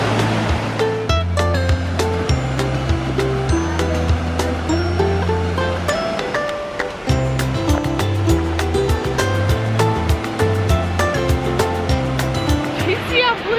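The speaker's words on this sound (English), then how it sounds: "The waterfall looks like it just drops down the middle there." Bruarfoss waterfall in Iceland gives a steady rushing roar of falling water. It runs continuously beneath background music and people talking.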